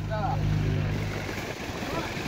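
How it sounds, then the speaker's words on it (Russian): A UAZ off-road vehicle's diesel engine drones loudly and steadily close by, a continuous low rumble with wind-like noise, while a voice speaks briefly at the start. "Дизельный мотор."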